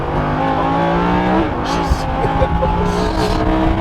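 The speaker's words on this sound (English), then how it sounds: "Jeez, this is a rear-wheel drive Huracan. That back end is just shaking and baking." A rear-wheel-drive Lamborghini Huracan engine roars loud and close at high speed as the car slides, the pitch wavering with brief tire noise, and people talk over it.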